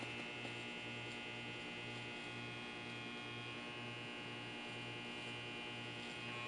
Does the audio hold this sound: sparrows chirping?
no